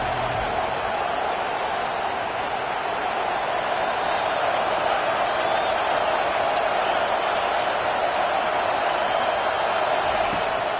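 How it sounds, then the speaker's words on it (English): A stadium crowd at an American football game roars loudly and steadily to back the home defense. The dense wall of cheering holds at an even level throughout. "Listen to this crowd just shaking the girders of this place trying to help their defense"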